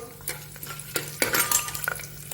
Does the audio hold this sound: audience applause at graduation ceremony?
no